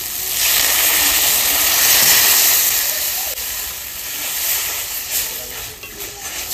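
Water poured onto fried spice paste in a home kitchen bursts into a loud, rushing hiss of steam and sizzle that holds strong, then eases and crackles unevenly as it settles.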